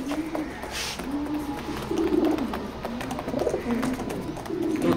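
Racing pigeons in a loft coo repeatedly, their low rolling calls overlapping in a steady series, close and fairly loud with no speech.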